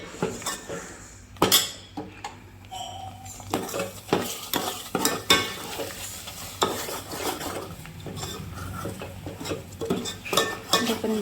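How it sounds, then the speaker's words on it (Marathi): An onion, grated coconut and coriander masala paste is fried in oil in a pan, with repeated sharp spatula scrapes and clinks against the metal over a low sizzle, close by and fairly busy throughout. "वाटण पण मस्त तेल सुटतपर्यंत परतून घ्यायचं आहे"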